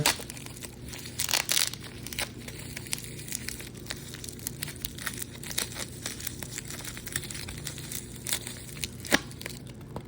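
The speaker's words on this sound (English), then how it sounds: "Just using the scissors, much more efficient, quicker, and easier." Crinkling and tearing of stiff plastic packaging with scattered snips and crunches, close by and moderately loud, no talking.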